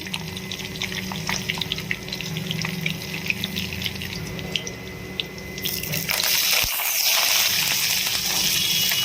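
Oil sizzles and crackles steadily as mustard seeds and curry leaves fry, with scattered sharp pops, then the frying noise surges brighter and louder near the end. No talking.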